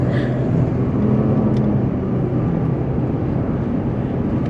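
Trucks speed past on a New Jersey highway, heard from inside a Lexus RX450H as a steady, loud roar of wind and tire rumble with no distinct pass-by peaks.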